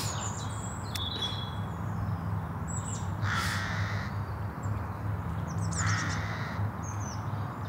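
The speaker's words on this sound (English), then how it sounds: "just listening to the birds" Crows caw several times, some nearer and some farther off, over a steady low outdoor hum, with no voices.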